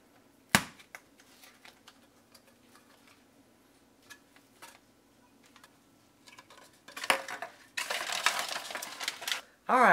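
Cans of refrigerated biscuit dough are handled and opened in a home kitchen: faint clinks and taps, then a louder papery tearing and a sharp pop near the end.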